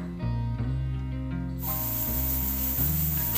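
Cauliflower hits hot oil in a kadhai on a gas stove, and a loud, steady hiss and sizzle rises and continues, heard up close with no talking.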